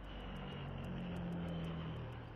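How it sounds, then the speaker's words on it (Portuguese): A propeller aircraft engine droning steadily, with a constant low hum and a faint regular pulsing on top, moderately loud and unchanging, no voices. "Com hélices produzindo sustentação para a decolagem vertical?"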